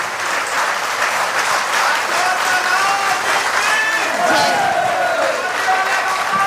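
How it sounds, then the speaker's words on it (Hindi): A large crowd applauds steadily and loudly throughout, with voices and cheers rising through the clapping at a Hindu religious darbar. "हाथ की ताली।"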